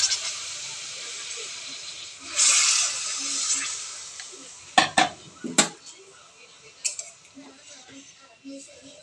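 A metal wok clanks on a gas stove as jaggery and water go in to heat, with a faint hiss of steam, a few sharp utensil knocks against the pan, and background sizzle.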